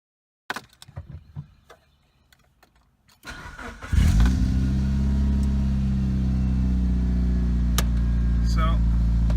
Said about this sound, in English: So, as you can see, it cranks up just fine.